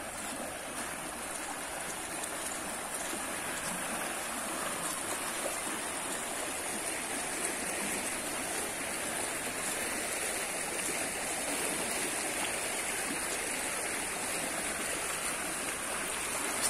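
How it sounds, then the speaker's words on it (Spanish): The Cañaveralejo river rushes along after rain, a steady, broadband wash of flowing water that stays even and unbroken throughout, moderately loud with no voices over it. "Y aquí tenemos pues el río Cañaveraleo."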